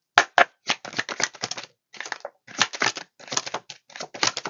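A tarot card deck being shuffled, a run of quick dry riffling bursts with short pauses between them, close up, with no talk.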